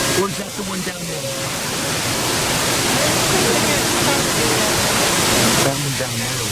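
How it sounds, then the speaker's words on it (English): Steady roar of rushing water from a large indoor waterfall in Tennessee, a broad continuous wash heard from nearby with brief voices faintly at the start and end. "this is the largest indoor waterfall in Tennessee"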